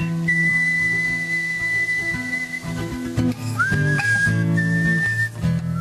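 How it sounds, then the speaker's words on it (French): A professional whistler performs a western-style melody, loud and close, with clear sustained notes and sliding pitches over a soft instrumental backing. "Ces sifflements sont célèbres dans le monde entier, indissociables de célèbres westerns."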